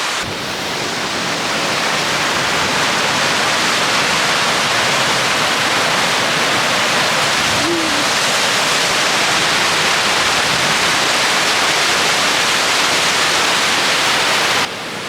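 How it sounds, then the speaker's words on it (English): Water pours over the spillway of the overflowing Theewaterskloof dam after heavy rains, a loud, unbroken broadband roar that holds steady for the full fifteen seconds. "here we are today at the overflowing ZERO-Waterskloofdam"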